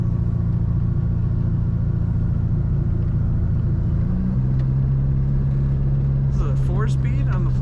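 A 1972 Volkswagen Beetle with a 4-speed manual gearbox drives along, its engine a steady loud low rumble that shifts pitch midway as it gets up to speed, with a brief higher noise near the end.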